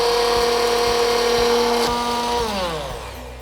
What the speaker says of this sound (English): I'm going to put in that food processor, along with the spices, about 2 tablespoons of the tea to help grind this into a really smooth